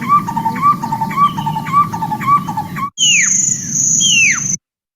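A spotted owlet's rapid, repeated chattering calls, followed by a brief gap and then loud, high descending whistled notes, close and clear, in the Okavango Delta, Botswana.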